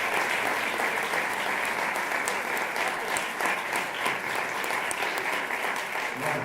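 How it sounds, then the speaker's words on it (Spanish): Sustained applause from an audience at a folklore book presentation, greeting Antonio Espinosa, a bandurria, lute and guitar player; dense, even clapping from many hands continuing throughout without any voice over it. "Les pido un fuerte aplauso para Antonio Espinosa"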